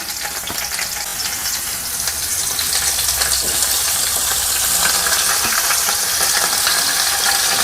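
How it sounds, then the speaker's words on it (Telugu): Chicken pieces fry in hot ghee with a steady, loud, close sizzle that swells slightly partway through and continues without pause, with no voices. "నెయ్యి వేడికిన తర్వాత మనం చికెన్ పీసెస్ని వేసి వేపేసుకుందామండి"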